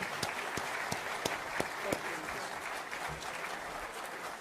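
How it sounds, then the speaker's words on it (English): Applause for the speakers at a climate science debate, a moderate crowd clapping steadily with a few sharper near claps standing out early, fading somewhat toward the end. "One more round of applause for our speakers."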